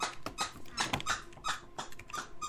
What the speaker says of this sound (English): Can't control a dog squeaking.